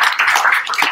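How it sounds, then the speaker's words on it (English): Audience applause for a speaker at a talk, a dense steady burst of many hands clapping, loud and close, lasting under a second. "So let's give him a round of applause."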